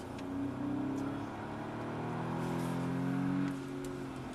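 Audi S3 accelerating hard out of a corner on the Anneau du Rhin race circuit, a steady engine drone rising in pitch twice, heard from inside the car at moderate volume with no talking.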